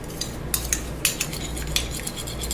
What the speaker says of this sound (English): So I'm just stirring.